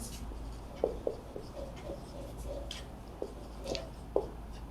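A pen scratches out equations on paper in a quiet room, with short, faint strokes and taps coming in an irregular rhythm.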